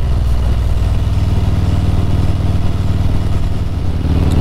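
Motorcycle engine running steadily while riding on twisty roads, a loud continuous low drone that stays level throughout with no talk over it.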